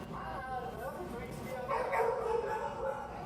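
A dog barks and yips from a played video, thin and somewhat distant, with people talking over and around it in a large room.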